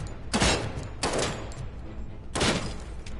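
Gunfire from the RoboCop video game comes in three loud, rough bursts spread over about three seconds, each a dense spray of shots with brief gaps between them.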